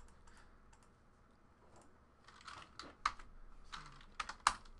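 Keystrokes on a computer keyboard during a football trading card box break, quiet scattered taps at first, then louder clusters of clicks with a few sharp, distinct key hits toward the end.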